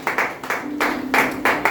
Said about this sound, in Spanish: Dale un fuerte aplauso para el Padre, para el Hijo y para el amado Espíritu Santo de Dios.